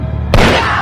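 A single loud gunshot cracks out suddenly in an action movie scene where a man shoots his own hand, leaving a lingering rumbling tail.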